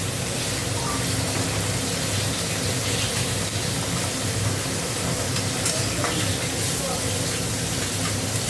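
Eggs and tomatoes fry in a hot pan, giving a loud, continuous sizzle with faint stirring, close and steady from start to finish.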